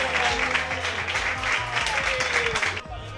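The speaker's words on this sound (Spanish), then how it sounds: "¡Un aplauso para Rosa!" Audience applause on a Spanish TV show, steady clapping under voices and background music, cutting off sharply near the end.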